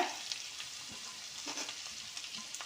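Five green chillies sauté in hot oil in a pan for a Tamil fried sankara fish curry, giving a steady, soft hiss of sizzling with small crackles and faint stirring scrapes throughout.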